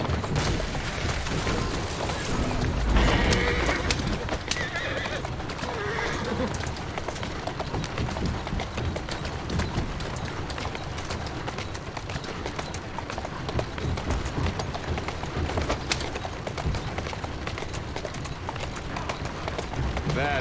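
A horse in the video game Assassin's Creed Syndicate, with steady hoof clip-clop and running amid continuous loud game noise, a brief whinny-like burst early on.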